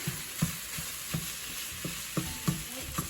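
Ground beef for soft shell tacos fries in a pan, a low steady sizzle broken by a string of sharp scraping knocks as the meat is stirred, roughly every half second to second, close and with no talking.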